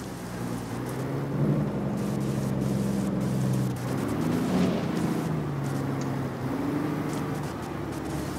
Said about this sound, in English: One minute I can hear the rain, next minute I can't hear the rain.